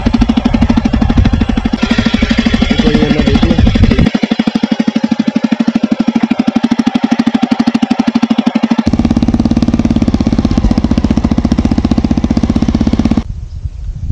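A Jawa 42 2.1 motorcycle with a modified silencer runs loud and close with a rapid, throbbing exhaust beat, its tone shifting as the revs change before it drops off at the end.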